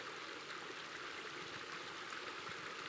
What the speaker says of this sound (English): There's more waterfalls over there.